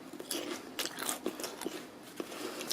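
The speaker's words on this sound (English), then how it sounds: "Look, I'm going to give it a crunch." A crunchy food is bitten and chewed at close range, giving several sharp, crisp crackles spread over a few seconds with no talking.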